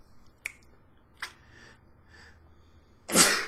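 A couple of small sharp clicks and breaths, then one loud, abrupt sneeze bursts out at the end.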